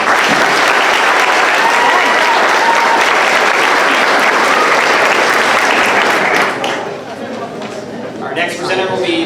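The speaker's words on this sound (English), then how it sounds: "let's give all of these students another round of applause" Sustained applause from an audience honoring 8th grade students at a middle school academic awards ceremony, loud and dense, thinning toward the end as voices emerge.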